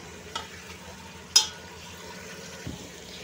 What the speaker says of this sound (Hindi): लहसुन अदरक के साथ हमें इसको 4 से 5 मिनट तक अच्छे से फ्राई करना है, भूनना है मतलब, और इसको अच्छे से चलाते रहना है